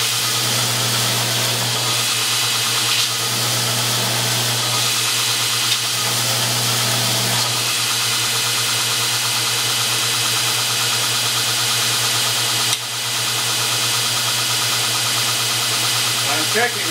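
A grinder smooths out 36-grit scratches on a forged blade part, a steady droning hum that continues throughout with brief dips and shifts in tone.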